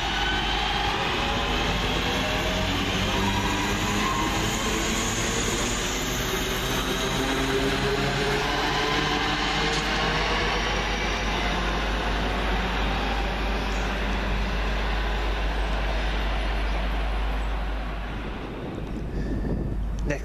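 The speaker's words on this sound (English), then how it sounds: "Next train in will be the delayed 11:40 Northern Rail service from Crewe to Manchester Piccadilly via Manchester Airport" A Northern Rail train at Sandbach station gives a loud, continuous rumble mixed with heavy wind buffeting on the microphone for nearly the whole stretch, easing slightly near the end.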